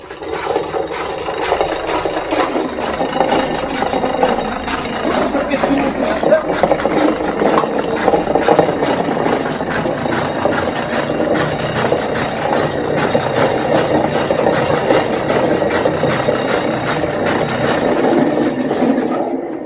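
An old hand coffee mill grinds steadily and close by, a continuous coarse rasping and rumbling that keeps going without a break.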